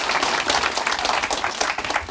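An audience at a talk claps briefly, a dense, close patter of many hands that keeps steady for a couple of seconds.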